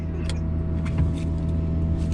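Steady low hum of the rear chiller cooling the drivetrain in a parked Electra Meccanica Solo electric car, climate control off, a constant near drone with a faint whine and no voices.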